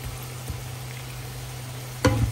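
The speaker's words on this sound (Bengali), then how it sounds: "তো মুচমুচে করে ভাজি করলাম, সাথে পেঁয়াজ, কাঁচামরিচ, লবণ," Hilsa fish fries crisply in oil with onion, green chili, salt and turmeric, a steady low sizzle with a soft clack and a louder stir or scrape near the end.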